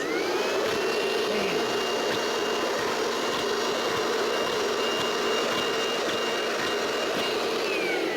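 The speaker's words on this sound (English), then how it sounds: "we're now gonna turn it over and see if we can vacuum these up" A homemade air blower switched to suction pulls objects up through a tube, giving a constant, loud vacuum-like whine and roar with small knocks over the top.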